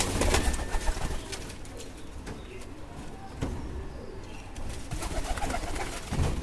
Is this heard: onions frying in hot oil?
no